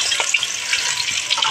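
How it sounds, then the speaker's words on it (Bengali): Onions fry in a kadai for a meat curry with a dense, loud, continuous sizzle and crackle, broken by faint scraping from stirring. "মাংসটা করার জন্য এখন কড়াইতে পেঁয়াজ দিচ্ছি"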